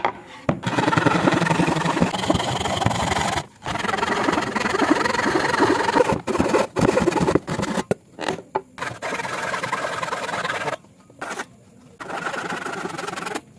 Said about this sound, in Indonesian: Setelah itu kita potong bagian lingkaran ini, kita lebihin sekitar 2 mili atau 3 mili ya.